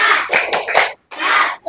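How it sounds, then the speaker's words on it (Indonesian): A school class does a rhythmic spirit clap called tepuk semangat. Quick bursts of many hands clapping together follow a set pattern, with a short pause before a final sustained clatter. "Coba tepuk semangat."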